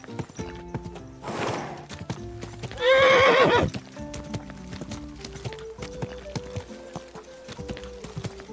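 A horse in the medieval video game Kingdom Come: Deliverance 2 gives a loud, close, rising whinny amid a steady run of clip-clopping hooves, with a synthetic rustle just before it and game music tones underneath.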